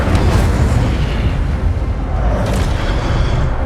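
An Incendio fire spell is cast in the video game Hogwarts Legacy. A loud, rumbling fiery whoosh fills the whole moment, with a brighter burst near the end, and no one talks.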